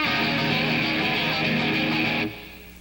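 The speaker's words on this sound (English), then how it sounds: "If you play open strings, it sounds like this." Electric guitar strummed with open strings left ringing in a Stevie Ray Vaughan blues style, a dense bright chord wash that sustains for about two seconds and then cuts off abruptly; close and alone.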